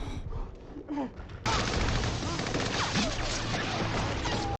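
Dense gunfire from a WWII Pacific battle scene at the Peleliu landing, a loud sustained barrage that bursts in after a quieter opening with low voices, then keeps going without a break to the end.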